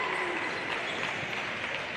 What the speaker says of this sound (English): Very different crowd reactions there on those 3s.